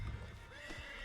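A horse in the video game Red Dead Redemption 2 gives a short whinny, with a couple of clip-clop hoofbeats close by in a brief, quiet moment.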